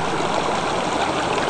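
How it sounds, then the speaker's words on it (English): The Carson River runs in with a steady, close rushing and gurgling of flowing water, with no one talking over it. "Another place there where the water's running in."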